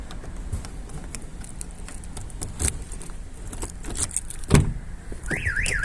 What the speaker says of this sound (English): There you go, alarm going off again